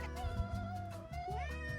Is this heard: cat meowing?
yes